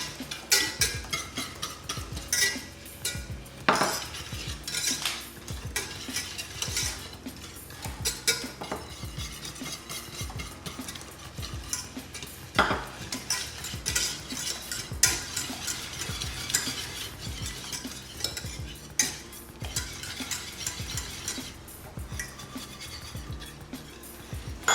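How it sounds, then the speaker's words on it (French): A spoon stirs warm strawberries in a pan while pectin powder is sprinkled in for a charlotte compote, making steady scraping and clinking strokes in a continuous rhythm with light sizzling underneath, close and moderately loud, with no talking. "je vais venir saupoudrer et mélanger en même temps"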